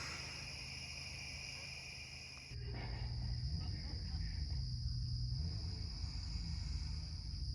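Insects chirp steadily at a humid outdoor campsite, a high continuous buzzing drone layered over low background rumble, with the overall level shifting partway through.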